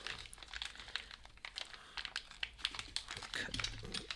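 Plastic packaging around new lock keys crinkles and rips in short, irregular bursts close up and fairly quiet, with brief scraps of muttered speech mixed in.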